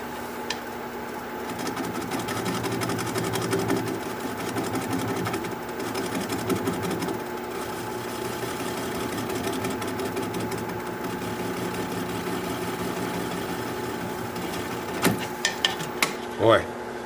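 A wood lathe turns a hole-riddled wooden bowl at low speed, around 350, giving a steady mechanical hum and whir, with a few sharp tool knocks near the end.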